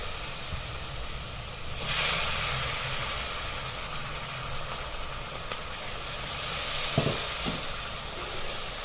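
Moong dal, soaked for four to five hours, fries in oil with green chilies, making a continuous close hiss and sizzle that swells slightly after the first couple of seconds, with no voices.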